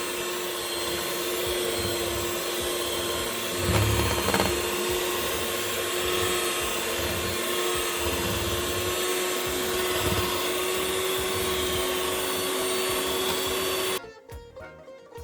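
An electric mixer whips cream until stiff, a loud steady motor whine that runs unbroken for about fourteen seconds and then abruptly cuts off, no voices.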